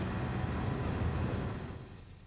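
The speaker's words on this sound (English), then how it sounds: "There's some race car sounds for you." Porsche 911 RSR race car in Gran Turismo 7 at Monza, a continuous low engine roar with broad hiss that holds steady then fades slightly toward the end, no voices.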